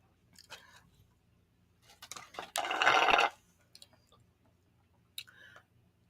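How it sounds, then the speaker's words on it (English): Crunchy ice from a cup is bitten and chewed close to the microphone, with scattered small crunches and one loud sustained grinding burst in the middle, then a final crisp crunch, no talk. "I had to get my cup of ice. It's just a cup of ice at this point, but it's the good ice. It's the crunchy ice."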